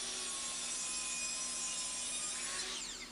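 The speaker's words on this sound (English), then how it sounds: "here I am trimming down the remaining pieces of the door that exact same 1/4 inch" Continuous sawing through old door wood, trimming remaining pieces to a quarter inch, a steady close rasping cut lasting the whole moment and tapering off at the end, with no talk.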